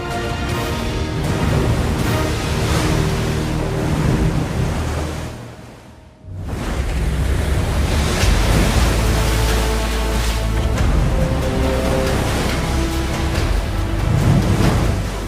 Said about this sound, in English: The Atlantic Ocean, one of the most dangerous bodies of water in the world.